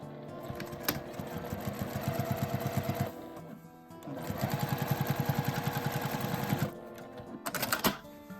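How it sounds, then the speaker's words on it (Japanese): Sewing machine stitching the edge of a quilted tote bag, a fast rhythmic needle chatter in two long runs separated by a brief pause, then a short final burst, heard up close and alone. "返し口のところを内側に折って端を縫います"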